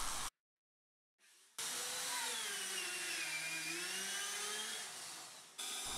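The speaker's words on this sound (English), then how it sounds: "The plan is to drill through using my dowel jointer." A power drill with a dowel jointer whines steadily for several seconds after a brief pause, its pitch dipping slightly as it bites into scaffold board wood.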